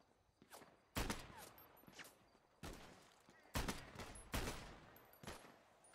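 Gunfire in a GTA role-play game: several sharp, loud shots in separate bursts, some close and some more distant, with quieter gaps between them.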